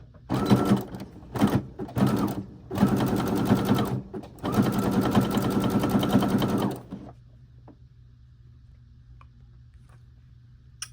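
A sewing machine stitches a zigzag down the middle of a pet scrunchie in several close, rapid bursts of needle hammering, with short pauses between them, then stops and leaves a low hum.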